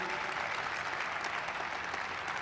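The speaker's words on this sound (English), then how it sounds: "A round of applause for that right there" Audience at a Brockton state of the city address applauds Police Chief Brenda Perez, a steady, dense wash of clapping that holds evenly from start to finish, fairly faint and with no voices over it.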